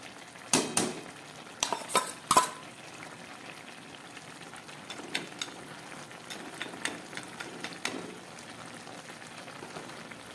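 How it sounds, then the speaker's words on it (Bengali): Fried lentil dumplings and dried shrimp dropped into a simmering curry pot, several loud clattering thuds and scrapes of a utensil against the pot, then softer stirring and bubbling. "এবার এই ভেজে রাখা বড়ি আর চিংড়ি মাছটা আমি এর মধ্যে দিয়ে দিচ্ছি"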